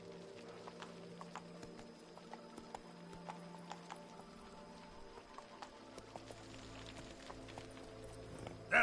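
The horse Roach's hooves clop in a steady galloping rhythm in The Witcher video game, faint and distant beneath sustained background music tones.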